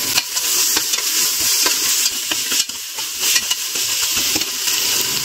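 Tomatoes frying with ginger and garlic in a pan, giving a steady close sizzle with intermittent stirring scrapes throughout, no talk.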